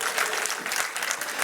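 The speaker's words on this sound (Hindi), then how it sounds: "अभी ताली उतनी जोर के नहीं आई," Crowd applause at a political rally with Union cabinet ministers, a dense steady wash of many hands clapping for about a second and a half, fairly even in loudness with no talk over it.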